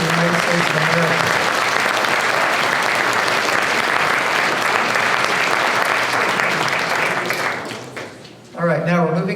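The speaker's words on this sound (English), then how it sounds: "A round of applause for the United States of America." Sustained applause from an audience at a mayoral and council candidates meeting, steady and full for about eight seconds before thinning out, followed by a short burst of talk at the end.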